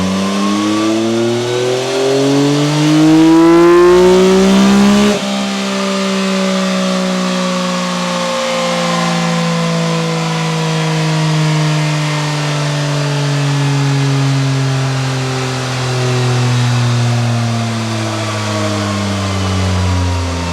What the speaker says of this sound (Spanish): así que vamos a proceder al ensayo.